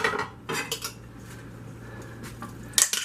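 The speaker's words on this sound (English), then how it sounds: "Now I'm going to dump my meat along with the juice into my crock pot." Beef and its juices tipped from a dish into a crock pot, giving a few close, sharp clatters of utensil and crockery separated by quieter scraping, with a final louder clink near the end.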